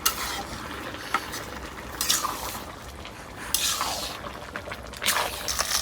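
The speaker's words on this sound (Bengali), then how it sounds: "কড়ার মধ্যে তেল দিয়ে দিছি" Oil heating in a korai, a cooking pan, in a home kitchen, with a soft continuous hiss broken by several brief scraping, stirring clicks at close range, and no voices.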